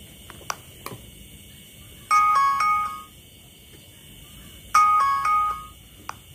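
A ringtone plays on a Samsung tablet in two loud bursts of bright, layered electronic tones, each lasting about a second, separated by a pause with a few faint clicks around them.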